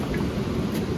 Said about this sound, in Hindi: और आप आवाज़ सुन सकते हैं पानी की।